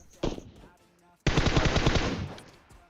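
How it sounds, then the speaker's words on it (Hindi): Automatic gunfire in PUBG Mobile at Rozhok: a short burst, a brief pause, then a longer rapid stream of close, loud shots that fades out after about a second. "देखते ही देखते 8 गोली कब बर्बाद हो गई पता भी नहीं चला"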